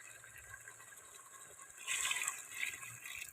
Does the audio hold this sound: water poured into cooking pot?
yes